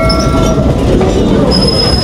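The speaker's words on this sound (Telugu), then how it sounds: "ఇలా ఓపెన్ ట్రైన్లో వింటేజ్ ట్రైన్లో మనం ఎక్కాం కదా" Vintage open-air train rolling through Stone Mountain Park, a steady loud rumble of wheels and carriage noise that runs continuously throughout, with no clear talk.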